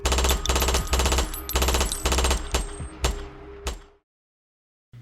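Rapid bursts of gunfire in a Grand Theft Auto game, loud and close, in several clusters that stop abruptly before a second of silence.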